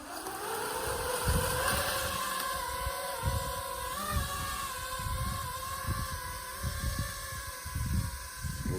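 An FPV racing drone flies over a shooting range, its motors giving a continuous high-pitched whine that rises and falls in pitch as the throttle changes. The whine stays steady and fairly faint throughout.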